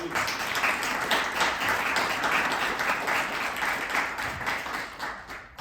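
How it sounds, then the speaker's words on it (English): An audience at an Islamic studies evening lecture gives a sustained round of applause, a full, even roar of many hands clapping that tapers off at the end. "let's give them all a round of applause"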